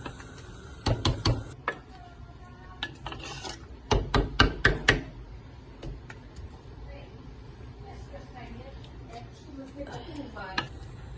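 Lemon zest is grated in a kitchen, heard as bursts of quick, rough rasping strokes in two clusters, with scattered softer scrapes between them, close and fairly loud against a quiet background.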